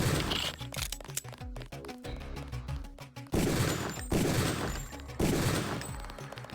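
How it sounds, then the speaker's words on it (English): Rapid bursts of gunfire from shooting enemies in the first Deus Ex game, dense volleys of shots over a steady game backdrop, loud and close, with a brief lull before the firing resumes. "I'm shooting them multiple times because I don't know about what their HP is at"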